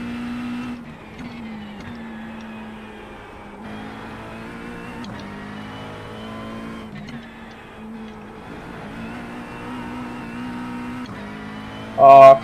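A race car engine drones steadily through a Nürburgring Nordschleife lap, its pitch rising and falling with gear changes, with a short loud burst at the very end.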